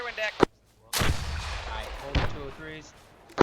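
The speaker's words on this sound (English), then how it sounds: "I'm seeing a lot of explosions." Artillery explosions and gunfire in the military video game Arma 3: a short crack, then a long rolling blast with a second boom and a final sharp report, with radio chatter between them.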